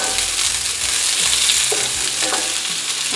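Onions fry in olive oil with a steady, dense sizzle that holds at an even loudness throughout, marked by a few soft stirring scrapes near the pan and no voices.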